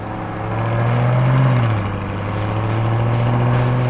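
A Lamborghini Urus engine fires up and revs close by, its deep rumble swelling to a peak, falling back, then settling into a loud, steady idle hum.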